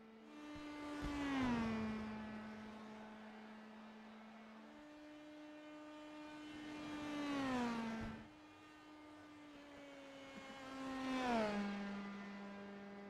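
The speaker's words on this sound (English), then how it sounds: "He'll come around, do the celebratory donuts and burnouts here on the front" Race car engines in iRacing at Phoenix, oval series cars spinning donuts and burnouts: steady droning engine tones rising and sweeping in pitch in three slow waves, moderately faint with no talk.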